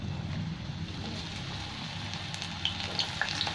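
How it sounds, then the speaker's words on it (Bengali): Pointed gourd (potol) pieces frying in hot mustard oil, a steady dense sizzle with occasional sharp pops and crackles rising near the end, close and continuous with no talking. "সাথে পটলের সাথে আলুগুলো ভেজে নেব।"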